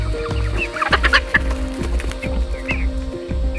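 Chickens cluck steadily nearby, with overlapping bird calls and a rhythmic low tapping beneath them.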